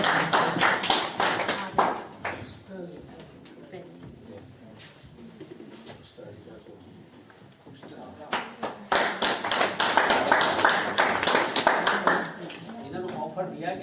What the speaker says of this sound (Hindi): जोरदार तालियों के साथ स्वागत और अभिनंदन।